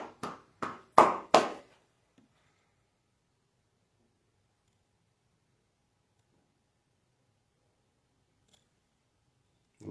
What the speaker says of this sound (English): give the Almighty hand clap